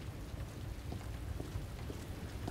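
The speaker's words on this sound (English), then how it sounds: "Huh, raining." Steady rain hisses through the balcony scene of the Resident Evil 2 PC game, a soft continuous wash at moderate level with scattered faint drop ticks and no talking.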